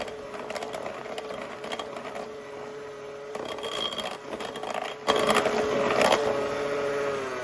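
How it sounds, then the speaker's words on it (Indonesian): An electric mixer beating butter, margarine and powdered sugar for nastar cookie dough, a steady motor whine with rattling of beaters against the bowl, growing louder near the end. "Untuk mixer butter, margarin, dan gula halus cukup 1 menit saja"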